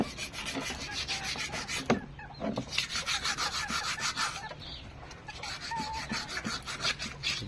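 Coarse 120 grit sandpaper rubs back and forth on a blackened engine piston, a close, rhythmic rasping scrape in quick repeated strokes with a short pause partway and a rooster faintly in the background.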